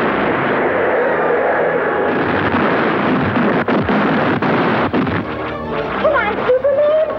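Rocket fire and explosions from a film battle scene form a dense, continuous roar with heavy rumbling blasts and sharp bursts, loud throughout.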